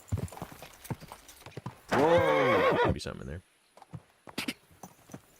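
A horse called Pebbles in the game Kingdom Come Deliverance II gives a loud neigh, set among close clip-clopping hooves, while someone talks over it.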